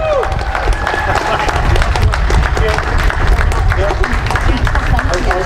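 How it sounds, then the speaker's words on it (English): An outdoor Earth Day 2015 crowd in Edmonton applauds organizers for 25 years of work, with steady clapping and some cheering that runs throughout. Voices and crowd chatter mix in. "people could give them a round of applause for all the work that they have done over the years"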